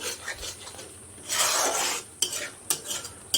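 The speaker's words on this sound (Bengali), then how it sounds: "মশলা দিয়ে কষিয়ে নিতে হবে যতক্ষণ না পেঁয়াজ থেকে তেলটা ছাড়ছে" Spices and onions for egg curry are stirred in a frying pan over a low flame: a spoon scrapes and rasps through the mix while it sizzles softly, with a louder scraping stir in the middle.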